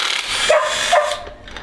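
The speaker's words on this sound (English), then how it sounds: "Why are you barking?" A dog barks twice in quick succession, fairly close, during a garage job installing a winch on a Toyota Troopy, with workshop noise around the barks.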